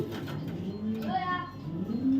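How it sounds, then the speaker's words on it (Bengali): Female light-coloured Sobji racer pigeon cooing in soft, rising warbling calls while being handled and released, with someone speaking over it nearby. "এটা একটা মাদি কবুতর সবজি রেসার ওভার লাইট কালারের একটা মাদি কবুতর"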